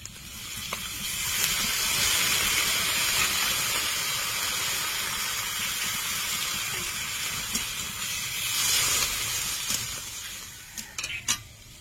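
Chili chicken sizzles loudly and steadily in a pan after water goes in over fried spices and Kashmiri red chili powder, a dense hiss with a few sharp crackles near the end and no talking.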